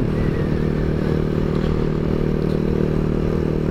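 A Honda Grom motorcycle rides past, its small engine giving a steady, continuous buzzing drone with some clattering mechanical noise, fairly loud throughout with no talking.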